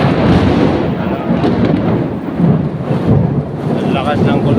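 Loud thunder rumbles and booms through heavy rain pouring down in Barangay Pag-ibig sa Nayon, Philippines, with a constant dense downpour underneath and several strong surges of thunder across the stretch.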